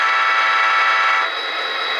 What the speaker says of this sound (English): F2 is the horn.